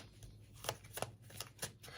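Tarot cards being shuffled in several quick riffling bursts, close up, with a faint steady hum underneath.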